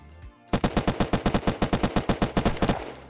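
Rapid automatic gunfire from a weapon in the video game Unturned, a steady burst of about twenty evenly spaced loud shots over roughly two and a half seconds, heard alone after a brief quiet start.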